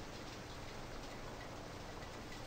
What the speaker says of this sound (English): Yeah, kind of a tink, tink, tink sound. I think it's a hailstorm.